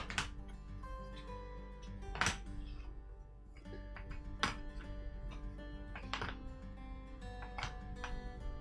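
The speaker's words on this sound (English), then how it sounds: "He's gonna give it a good shuffle and then place them on his board." Triangular cardboard action tiles for the board game Crusaders: Thy Will Be Done are shuffled and set down on a player board, giving sharp, close taps and clacks every couple of seconds over a low, steady room hum.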